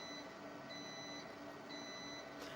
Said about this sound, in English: Sorry about that beeping sound.